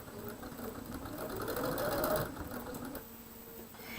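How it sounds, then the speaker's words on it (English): A sewing machine stitches quilt pieces together in a short, fast, steady run of needle strokes, close and fairly quiet, then stops near the end. "now let's sew that side together"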